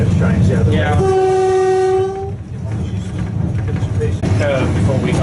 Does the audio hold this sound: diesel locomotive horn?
yes